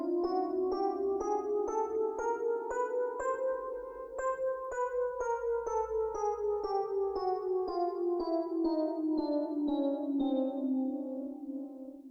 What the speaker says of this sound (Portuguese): E esse é o som da escala cromática.